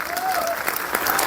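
Audience clapping at a business motivational event, a short burst of scattered, moderately loud claps with crowd murmur and a faint whistle-like tone.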